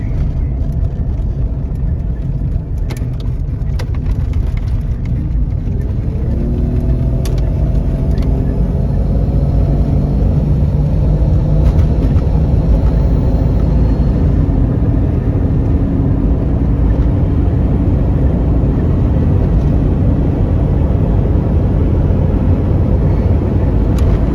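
Steady road and engine drone from a 1994 Jeep Cherokee Sport XJ cruising on the freeway, a continuous loud low rumble with wind and tire noise throughout and no talking.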